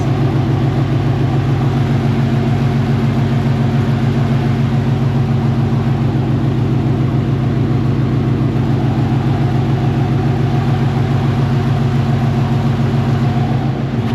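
A car engine idles steadily after starting on fresh gasoline, a loud, even low rumble with a regular pulsing beat that holds without revving, no voices.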